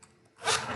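A zipper on the compartment of a student flight kit bag is pulled open in one short, close rasping stroke.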